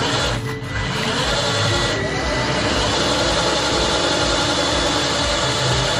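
Vacuum pump system of an SL 408 Outdoor glass-installing robot running steadily, a loud continuous mechanical hum and whir with a slight dip near the start, close up.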